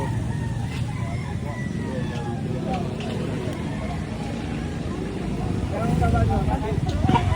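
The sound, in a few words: roosters crowing at Lipa market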